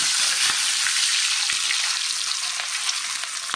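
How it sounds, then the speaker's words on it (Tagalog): Daing na bangus, dried milkfish, fries in a pan with a loud, continuous crackling sizzle and scattered pops, close up and steady throughout with no talk. "Prito natin ang daing na bangus"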